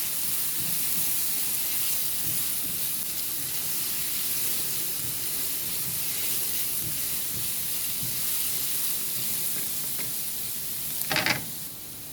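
Squid sautéing in oil in a pan, a steady close hiss and sizzle running throughout with a brief louder crackle near the end.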